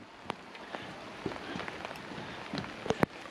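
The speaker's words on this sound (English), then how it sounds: "It's raining again." Scattered raindrops tap and patter on a surface close by, irregular and fairly quiet, with a few sharper drips standing out.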